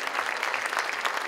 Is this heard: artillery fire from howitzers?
no